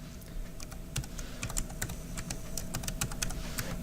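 Fast, uneven clicking of keys as a username is typed on a computer keyboard, close and fairly quiet, with short bursts and brief pauses and no talk.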